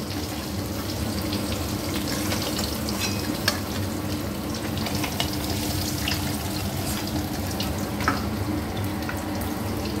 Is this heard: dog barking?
no